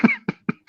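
A person coughs in a quick series of three to four short, sharp bursts, close to the microphone and with no talking.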